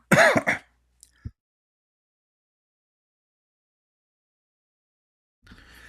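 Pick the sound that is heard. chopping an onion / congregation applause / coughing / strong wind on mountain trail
coughing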